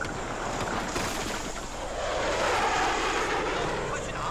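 Helicopter in the Battlefield 4 video game, heard as a continuous, dense engine and rotor roar that holds steady and swells slightly midway, filling the whole stretch.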